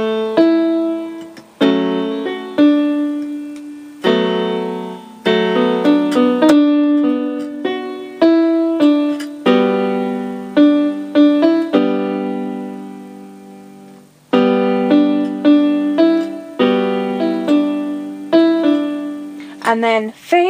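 A piano plays the opening of a song alone and clearly, with separate notes and chords in a steady tempo and short pauses between phrases.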